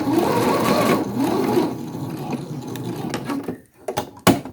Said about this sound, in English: I'm stitching really close to this folded over edge here.